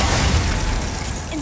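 Glacius ice spell cast in Hogwarts Legacy, a short icy burst with a shattering crackle over steady game ambience, loud and close, with no talking.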